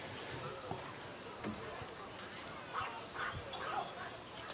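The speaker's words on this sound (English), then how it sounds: "some of the dogs here in the stands getting a little rowdy" Dogs in the stands at a Wilson Tobs baseball game bark and yip in short scattered bursts, fairly faint against the open crowd ambience of the ballpark.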